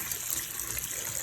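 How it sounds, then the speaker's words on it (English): Tap water runs steadily into a household sink over a slow drain, a continuous bright hiss of splashing water, close and unbroken, with no talking. "so I turn on my water"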